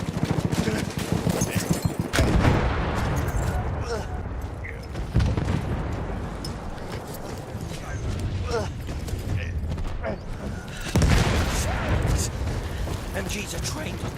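Machine gun fire in the World War I shooter Battlefield 1, bursts of rapid shots and mechanical clatter with loud blasts near 2, 5 and 11 seconds, running under voices and battlefield noise.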